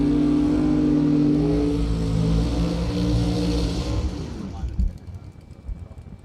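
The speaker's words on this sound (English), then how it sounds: "And here we go with burnouts." Drag racing cars doing burnouts at a bracket race give a loud, sustained engine roar with revving that fades out after about four seconds, leaving faint background noise.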